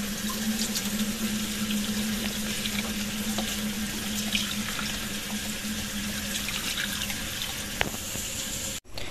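Water pouring into a cooking pot for pork, a steady close rush of running water for several seconds that cuts off abruptly near the end.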